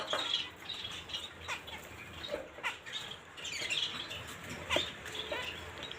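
Two female and one male zebra finch chirp in short, faint, scattered calls over a soft background hiss.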